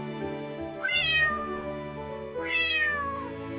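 Ginger the cat meows twice, close and clear, each a rising then falling call about a second long, with a soft musical bed beneath.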